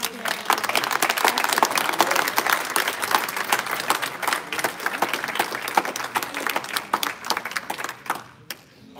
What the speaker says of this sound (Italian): facciamo prima che vada via un applauso